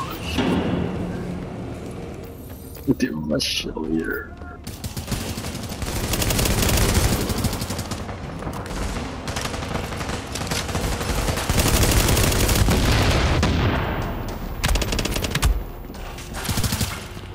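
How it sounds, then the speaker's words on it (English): Rapid bursts of video game gunfire crackle loudly and repeatedly, nearly continuous, with brief voices and laughter mixed in early on. "the sound of shooting is too loud"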